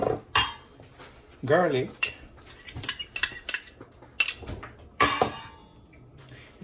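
Ginger, garlic, smoked herring, onion and ham are mixed together as a stuffing for boneless milkfish, with sharp irregular clinks and scrapes of a utensil against a bowl and a voice talking in between.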